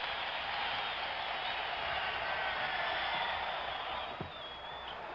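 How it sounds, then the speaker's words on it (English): A basketball arena crowd at a 1975 playoff Game 7 between the Chicago Bulls and Golden State Warriors applauds the Rookie of the Year as he leaves the game. The applause is a steady, distant, fairly faint wash. "listen to the applause for the Rookie of the Year as Bridges leaves"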